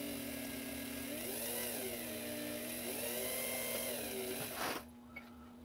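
A small power drill bores a pivot hole into a brass plate of an Ansonia time-and-strike clock, whining steadily with wavering pitch, close up, then cutting off abruptly near the end.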